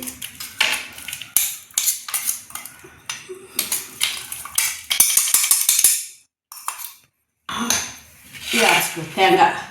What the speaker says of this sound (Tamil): தேங்காய், வத்தல், உள்ளி, கறிவேப்பிலை இதெல்லாம் போட்டு ஒரு திருக்கு.